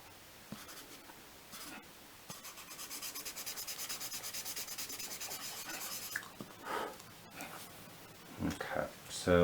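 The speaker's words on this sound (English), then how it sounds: "I'm going to blend some of the shading I put on the paper." Graphite pencil shading on paper being blended with soft, rhythmic rubbing strokes, a dense run of scratchy back-and-forth swipes close up, then scattered shorter rubs and handling noises.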